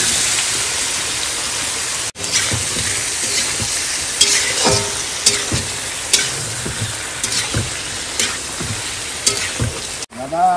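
Whole cumin and other ingredients frying in hot oil give a loud, close, steady sizzle, broken by repeated clinks of stirring and a couple of brief dropouts.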